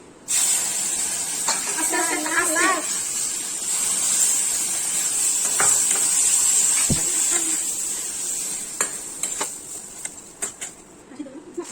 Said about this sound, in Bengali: এখন আমরা জল ঢেলে নিচ্ছি।